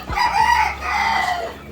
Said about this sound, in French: Ça sont des coqs.